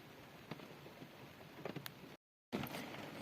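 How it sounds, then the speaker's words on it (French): Rain pattering on a car's body in the Guerlédan forest, a soft, steady hiss of drops with scattered sharper taps, cut off by a brief silence before resuming. "J'entends le bruit de la pluie sur la carrosserie."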